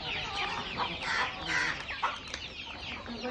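Chickens cluck and squawk continuously, several birds close by, with busy overlapping calls filling the whole short stretch.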